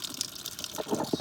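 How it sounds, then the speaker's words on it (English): Residual water draining out of an RV water line once the cap is removed, heard as a gushing, splashing trickle that grows louder and fuller toward the end, with no talk over it. "And if you take the cap off, it drains out any residual water"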